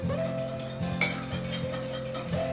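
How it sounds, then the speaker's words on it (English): Cake batter for a strawberry and elderflower cake being whisked in a bowl: close, steady metallic clinking and scraping of a whisk against the bowl in quick repeated strokes, without talk. "so let's whisk those all together"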